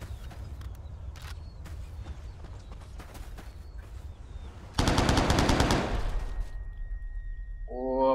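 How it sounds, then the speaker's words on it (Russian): Gunfire in the online shooter Stalker Online: scattered single shots and short bursts, then a dense, loud automatic burst about midway. Alone, with no voices. "я сейчас по ним стреляю так, чтобы они умерли просто"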